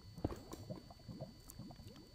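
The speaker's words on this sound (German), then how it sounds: "Scheiß blubbernde Zeug, das spritzt doch mal so." Bubbling liquid in the Minecraft video game gives a faint, continuous gurgle of small popping bubbles and soft splashes, a close but quiet texture lasting a couple of seconds with no voices over it.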